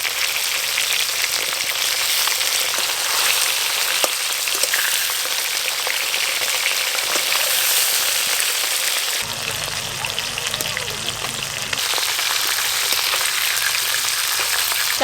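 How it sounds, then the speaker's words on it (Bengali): Pieces of katla fish steaks frying in hot oil, giving a steady, dense sizzle with crackling spatter throughout, a faint low hum briefly underneath partway through. "চাকাগুলো ভালো করে ভাজা হয়ে গেছে, চাকাগুলো তুলে নেবো, আর মুড়োগুলো একটু বাকি আছে।"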